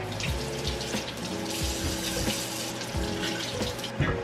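Tap water runs steadily into a sink while large sweet potatoes are rinsed under it, with small knocks and splashes of the potatoes against the basin through the continuous flow.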